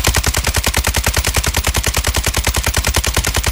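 A light machine gun in a video game fires a rapid, unbroken burst of evenly spaced loud shots, about ten per second, dominating the whole stretch with no talk.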